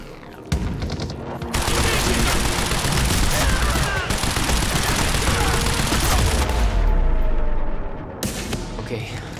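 Sustained automatic gunfire in the Quantum Break shooter game, a loud, dense fusillade of rapid shots running for several seconds, with shouting voices in the mix before the barrage briefly drops out and resumes.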